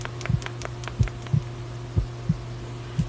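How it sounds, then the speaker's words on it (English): Slow, steady heartbeat thumps from a video game, single and doubled pulses about once a second, over a low constant hum. "Could you hear my heartbeat?"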